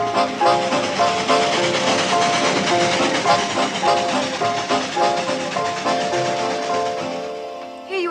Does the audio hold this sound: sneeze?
no